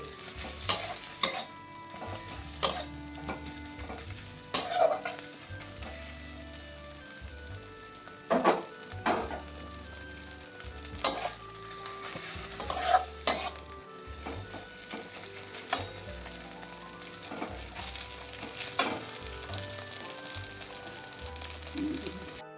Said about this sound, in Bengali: মিডিয়াম আঁচেই আমি মশলাটা ভাজছি।